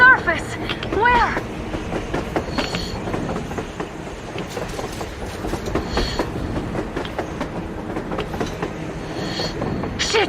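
A train rumbles along on the surface in the video game Metro Exodus, with clickety-clack rolling, metallic squeals and clanks at moderate distance over a low rumble, while people talk over it.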